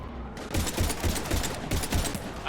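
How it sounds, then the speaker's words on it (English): Rapid automatic gunfire in Mass Effect 3, dense overlapping bursts of shots firing continuously and loudly during a heavy firefight. "We're taking heavy fire."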